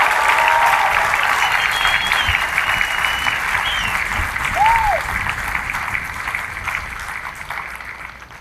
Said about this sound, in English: So please join me in a well-deserved round of applause for the drill instructors of Bravo Company.